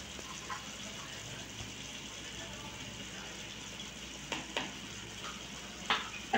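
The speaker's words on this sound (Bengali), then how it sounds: "একটু নেড়ে দেবো।" Prawn malai curry with coconut bubbles and sizzles steadily in a pan, with a few soft scrapes of stirring near the end and no talk.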